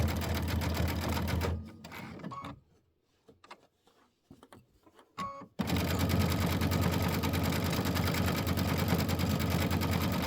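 A sewing machine runs in fast, steady bursts while stitching a Christmas quilt assembly, stopping for a few seconds of quiet handling and small clicks before the motor starts again loudly and continuously.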